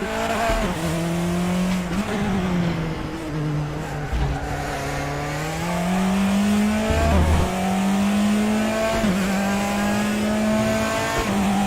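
A Mustang GT3 race car in a racing video game roars loudly and continuously, its engine note rising and falling through gear changes, with tire squeal and skidding throughout and no talking.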